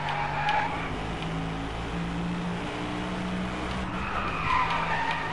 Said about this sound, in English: Let's smoke some more tyres.